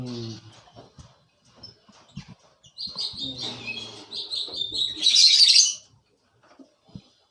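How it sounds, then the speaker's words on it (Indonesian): Lovebirds in breeding cages give high, busy chirps and twitters that rise to a loud, harsh burst of calling before fading to a few faint chirps. Someone talks softly at times under the calls. "Kita lihat kandang ternak burung-burung prestasi di sini."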